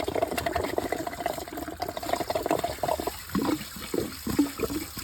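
Coolant draining and splashing out of a disconnected radiator hose on a 1972 Gran Torino or 1989 Foxbody, an uneven close gurgling pour that thins toward the end.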